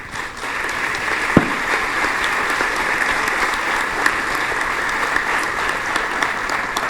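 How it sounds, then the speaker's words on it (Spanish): Sustained audience applause fills a conference hall during a panel discussion with court magistrates, dense steady clapping throughout with no talk over it. "al doctor Roberto Cerrato, para quien pido un aplauso."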